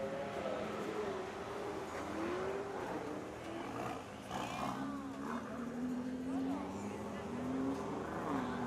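A Ford GT supercar on a Halloween supercar rally run, its engine note rising and falling as it drives past at a distance, a steady rumble with changing pitch, with people talking over it throughout.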